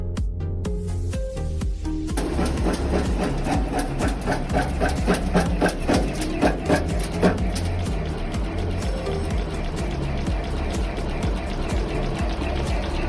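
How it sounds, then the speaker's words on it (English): A wood screw threading machine runs steadily, a dense mechanical clatter with rapid repeated ticks and a low rumble, loud and continuous throughout with no talk. "Step 2. Through screw threading machine."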